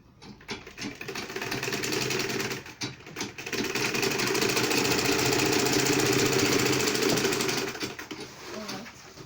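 Sewing machine stitching a homemade double-pocket market purse, running in a steady continuous whir with brief pauses near the start, fairly loud and close, with no talk over it.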